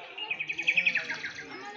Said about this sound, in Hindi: जब सुदामा ने इन चिड़ियों का कलरव सुना